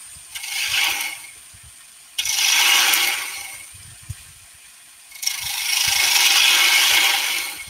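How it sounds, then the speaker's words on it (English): A spindle gouge hollowing out a wooden box part on a lathe gives three bursts of scraping, rasping cutting, the last one longest, with quieter spinning hum in the gaps and no talking. "We'll hollow that out a little bit. Again, using the spindle gouge."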